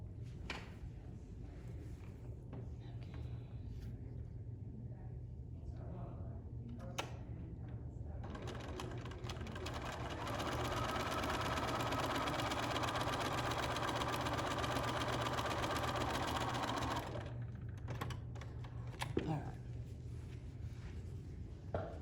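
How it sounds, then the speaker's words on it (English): A sewing machine stitching the chimney side of a Halloween village quilt block, running in short bursts before a long steady whirring run of about seven seconds, then stopping with a few faint clicks; no talking. "Now we're gonna sew the chimney side on. Same thing. Line it up and sew it."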